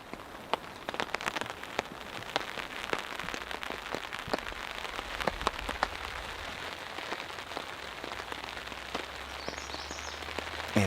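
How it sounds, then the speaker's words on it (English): Rain falls steadily on a campsite, a continuous patter of close, sharp drops hitting surfaces with scattered louder ticks, alone and without voices. "it has started to rain."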